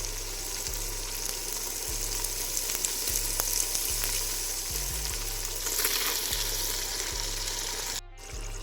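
Yogurt goes into a pan of gunda shaak, and the dish sizzles with a steady, close frying hiss. Soft stirring scrapes come through, and the hiss swells partway through before a brief dip near the end. No one talks.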